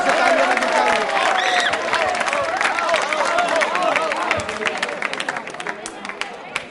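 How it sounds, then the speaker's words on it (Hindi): A quiz show audience claps and cheers loudly for a winner at a Republic Day event, with dense, steady applause and crowd noise filling the whole stretch before it tapers slightly at the end. "राहुल के लिए तालियां बजाइए, जोरदार तरीके से तालियां बजाइए।"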